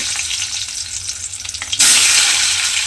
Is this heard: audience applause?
no